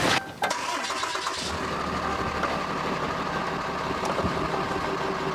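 A Ram 3500 truck's engine cranks briefly, catches and settles into a loud, steady idle that runs close by to the end.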